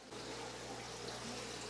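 Water pours steadily into a 125-gallon fish tank, a constant soft rushing hiss at low level with no break and no talk.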